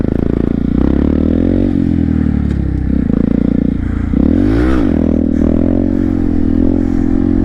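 A Honda Grom motorcycle runs a stunt wheelie. Its small engine drones loudly and steadily nearby, rises in a sweeping rev midway, then settles back, with some clatter and scraping.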